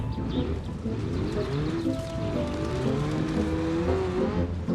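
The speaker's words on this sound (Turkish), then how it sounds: "Hala çalışıyor araba." Burning car engine still running in My Summer Car, a rough steady idle rumble with wavering harmonic tones and crackling noise, heard close and alone.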